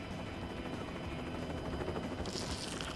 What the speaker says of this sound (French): Nous sommes dans un hélicoptère